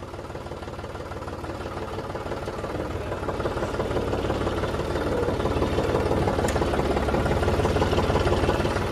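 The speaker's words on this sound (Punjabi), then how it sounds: "ਹੁਣ ਗਰਮ ਹੋ ਲਿਆ ਟਰੈਕਟਰ" A tractor engine idles steadily while warming up before fieldwork with a new superseeder, a continuous low rumble that grows slightly louder over the stretch with no talk over it.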